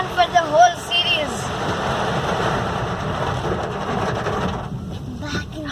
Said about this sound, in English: Back into the rain again.